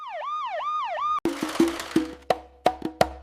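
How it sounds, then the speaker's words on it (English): An ambulance siren wails loudly in rising and falling sweeps for about a second, then cuts off into a series of sharp clicks and knocks. "An ambulance helps take sick or injured people to the hospital."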